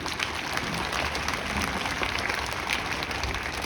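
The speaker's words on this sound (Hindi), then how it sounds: "एक बार सर के लिए तालियां" Students and guests applaud at a motivational seminar in a school campus, a loud, dense burst of many hands clapping together, close and sustained without voices.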